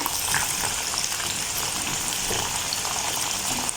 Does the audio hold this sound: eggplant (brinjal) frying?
yes